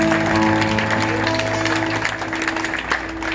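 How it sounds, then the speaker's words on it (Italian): Audience at a concert applauds for Andrea, a dense sustained clapping from a crowd with musical tones ringing underneath, loud and continuous. "fatemi sentire un altro applauso per Andrea"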